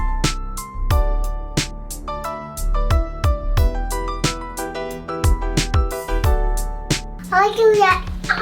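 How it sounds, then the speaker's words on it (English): A baby's babbling voice rises near the end over a loud rhythmic beat of plucked, percussive music. "Sorry about the baby talk."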